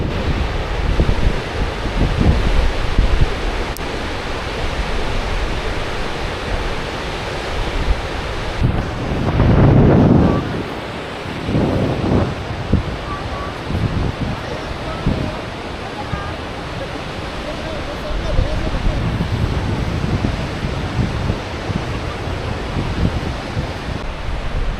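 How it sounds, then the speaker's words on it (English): Gullfoss, a two-tiered cascading waterfall on the Hvítá river in Iceland, roars as a loud continuous wash, heavily buffeted by strong, cold wind gusting across the microphone. "How amazing is this waterfall?"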